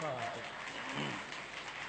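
Audience applause at a Hindi poetry recital about Sardar Vallabhbhai Patel, a steady dense wash of clapping filling the hall, with a voice faintly audible beneath it.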